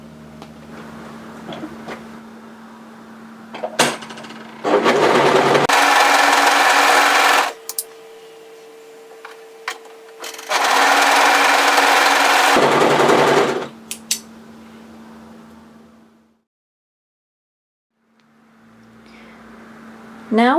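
Overlocker stitching the seams of a woven kimono robe, two loud sustained machine runs of a few seconds each with a rapid steady whir, separated by quieter handling noise and a brief near-silence.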